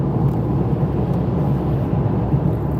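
Constant low traffic roar from lorries slowly overtaking one another on the M11 motorway, a dense steady rumble without talk.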